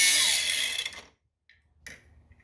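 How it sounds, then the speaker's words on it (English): A power grinder works down a car transmission spacer by one millimetre for a ZF transmission kit. A loud, bright grinding sound holds for about a second and then cuts off, and a shorter burst follows after a quiet pause. "So we're grinding down the spacers."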